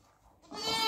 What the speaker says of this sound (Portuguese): Vou pegar logo essa ovelha aqui, ó.